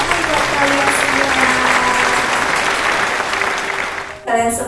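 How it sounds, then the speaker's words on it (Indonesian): A class of fourth-grade primary school children claps steadily for about four seconds, a dense, continuous wash of applause that stops abruptly near the end. "tepuk tangan buat kalian semua"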